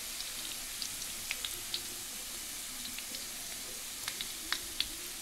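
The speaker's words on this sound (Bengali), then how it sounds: "হালকা আঁচে আস্তে আস্তে ভাজতে হবে, খুব সুন্দর মচমচে হবে।" Banana blossom bract pakoras fry slowly in oil over low heat, with a soft, steady sizzle and scattered small crackles and pops. It sounds quiet and close, with no talking.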